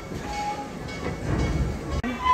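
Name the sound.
theme park train ride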